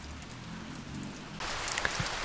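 Steady rain falls on a hut, a close, even hiss of drops on the roof and surroundings with no talking, growing brighter and heavier partway through.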